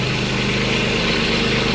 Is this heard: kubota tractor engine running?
yes